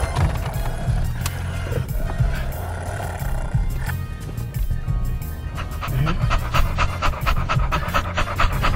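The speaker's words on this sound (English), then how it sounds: "Crazy dog." A dog pants close by in quick, steady, rhythmic breaths that grow a little louder and sharper toward the end, with no clear talk over it.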